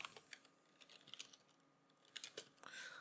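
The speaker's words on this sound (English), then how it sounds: "let's say I type in something else" Quiet typing on a computer keyboard, with scattered light key clicks in short irregular bursts and a faster cluster near the end.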